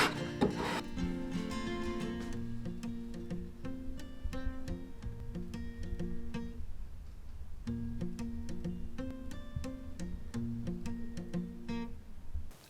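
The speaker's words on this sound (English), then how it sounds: "you can really start to scratch out a bead precisely where you want it to be" Handmade scratch stock scraping a bead into wood, a steady close rasping rub with rhythmic push and pull strokes, continuing for most of the length with a brief pause midway.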